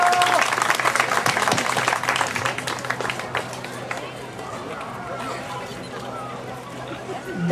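A crowd at a sailing regatta prize ceremony applauds, loud clapping in the first few seconds that fades into crowd murmur and chatter.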